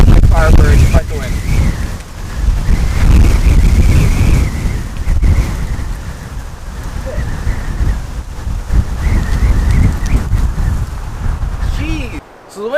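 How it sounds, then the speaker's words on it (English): Strong wind on an outdoor disc golf course, a loud continuous low roar of buffeting against the microphone that persists nearly throughout, with a person talking faintly under it. "So the wind's doing a bunch of crazy things out here."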